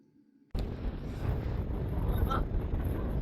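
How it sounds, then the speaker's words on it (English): A strong coastal wind suddenly roars across the microphone after a quiet moment, then buffets loudly and keeps on churning. A voice can be heard faintly in the background. "it's very windy today"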